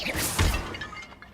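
A Descendo spell slams down in Hogwarts Legacy with a single close, heavy crashing thud and a whooshing rush that fades quickly.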